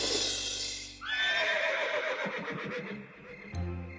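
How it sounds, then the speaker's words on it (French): A horse neighs loudly from a meadow in a French-dubbed Horseland cartoon episode, a long shrill whinny that drops into a rough, fluttering tail, followed by a brief lower snort. "c'était un hennissement qui devait venir de la prairie"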